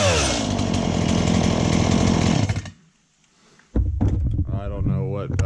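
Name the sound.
Stihl MS 180 chainsaw starting and running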